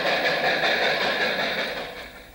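A model train runs along its track with steady rolling rattle and clicking, fairly close and loud, slowly fading toward the end.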